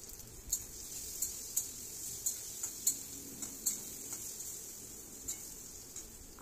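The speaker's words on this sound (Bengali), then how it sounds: "এরপর আমি কড়াইতে সর্ষের তেল দিয়ে আলুগুলো হলুদ আর নুন দিয়ে বেশ লাল লাল করে ভেজে নেব" Potatoes frying in mustard oil with turmeric and salt in a wok, a soft steady sizzle under a string of sharp ticking clicks from a utensil, fairly quiet and close, with no talk.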